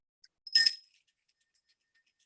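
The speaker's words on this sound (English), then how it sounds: "Can you ring the bell quickly?" A single bell rings out once, faint and thin, with a bright brief strike followed by a light shimmering decay and scattered small clinks.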